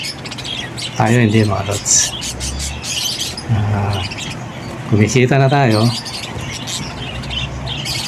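Pet parakeets (keets) chirp and squawk in repeated bright bursts near a rooftop, while someone talks over them.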